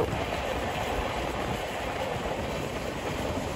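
A Tamralipta Express train rolling over points while changing tracks gives a steady, loud rumble of wheels on rail with continuous rattling, heard from inside the coach.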